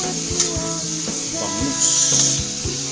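Boneless milkfish (bangus) for sisig sizzles steadily in a hot pan, a continuous close hiss with faint crackles and no talking.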